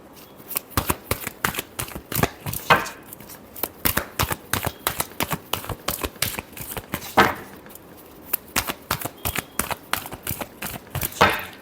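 Tarot cards shuffled alone at close range, a long run of quick crisp riffling flicks and soft slaps in an uneven rhythm for several seconds, with no voices.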